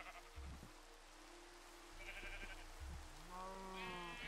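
Sheep in Minecraft bleat a few times in short wavering cries, one near the start and a louder pair toward the end, over low rumbling background.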